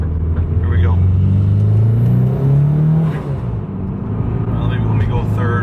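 A Mitsubishi Evo 4 with a blown engine accelerates in second gear. The engine note climbs in pitch for a few seconds and then drops back, a loud close rumble with someone talking over it.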